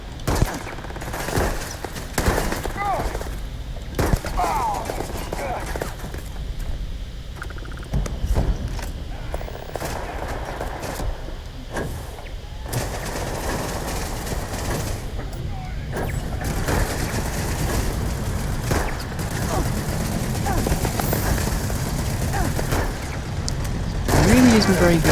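Solstice and Ember weapons in the sci-fi shooter Starfield fire in repeated bursts and single shots amid combat clatter, with someone talking over much of the gunfire.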